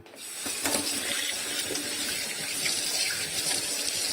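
Cold water runs continuously from a tap into a sink while an anchovy is washed, a steady splashing hiss with faint clinks in the background, close and unbroken.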